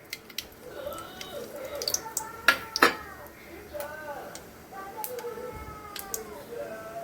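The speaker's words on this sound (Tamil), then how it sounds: "கடுகு வெடிச்சிருச்சு நல்லா" Mustard seeds pop in hot oil in a pan, giving scattered sharp cracks with a couple of louder bursts, close by under a steady background sizzle and a faint voice.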